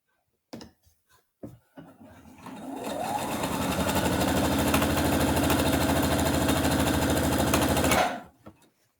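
A sewing machine runs a quarter-inch seam on a fabric scrubs bag, starting after a few light taps and whirring steadily and loudly for about five seconds at close range before stopping abruptly.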